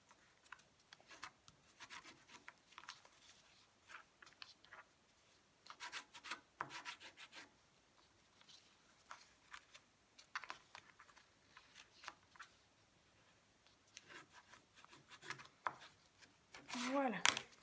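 Paper folds of a pop-up card are pressed and creased, giving bursts of close, soft rubbing and scraping strokes that repeat between quiet pauses, with a voice speaking at the end.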